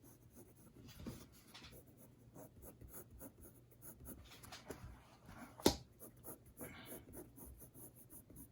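Pencil shading on paper with the flat of the lead, a faint scratchy rubbing in short strokes, with a sharp tap partway through; quiet and close.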